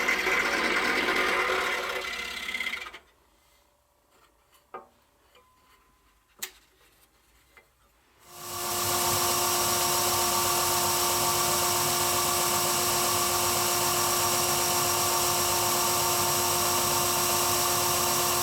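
A power tool cuts a wooden jig knob with a loud, high whine, running for a few seconds, stopping into near silence broken by faint clicks, then starting again and holding steady to the end.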